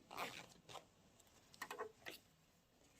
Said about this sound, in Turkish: Fermuarımı ayırıyorum.